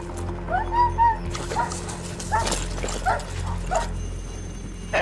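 A police dog yips and whimpers a few times amid background voices and a steady low hum, the barks short and moderately close.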